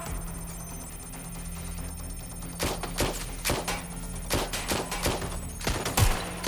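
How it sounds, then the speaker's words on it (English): Gunfire in the video game Watch Dogs Legion: after a few seconds of steady low hum, repeated sharp shots break out in uneven bursts and keep going to the end. "Shots fired. Shots fired."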